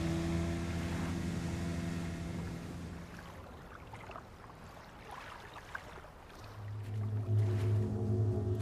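Boat motor in Resident Evil 4 Remastered on a lake, a steady low engine drone with water wash, easing off in the middle and then returning louder near the end.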